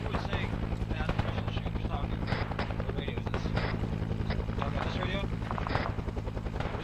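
Helicopter in the Arma 3 Vietnam-era game, a loud, constant rotor drone with rhythmic chopping throughout, joined by scattered gunfire pops, while voices talk over it.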